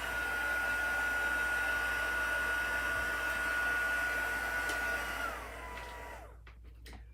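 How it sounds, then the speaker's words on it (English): A hair dryer runs steadily while drying an instant coffee craft project, a loud constant whine and airy hiss that holds, then drops in pitch and cuts off near the end. "I put my hand underneath the dryer when I was drying."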